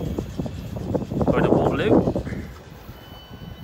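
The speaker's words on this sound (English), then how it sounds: "another suburb train has just arrived" A suburban train bound for Waterloo rolls into Clapham Junction station, a rising rumble and wheel noise swelling over a couple of seconds before easing off, with someone talking over it.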